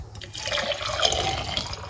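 Fresh watermelon juice pours steadily into a container with a soft, continuous splashing trickle, fairly quiet and close, with no talking.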